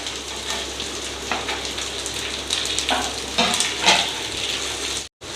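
Onions and capsicum fry in a hot pan for a Chinese-style mixed vegetable dish, giving a steady close sizzle with brief crackling bursts and faint stirring, with no talk.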